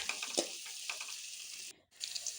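Onions and green chillies sizzle and fry in hot oil with a steady crackling hiss, briefly broken by a short quiet gap before the frying noise resumes.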